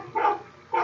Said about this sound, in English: And Max the dog